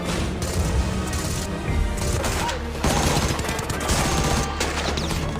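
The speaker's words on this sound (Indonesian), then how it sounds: "Tembakan Jerman terus memberondong dalam posisi menguntungkan." German machine guns fire in a war film battle scene, a dense, loud fusillade of overlapping bursts and impacts rolling on without pause, with no dialogue over the shooting.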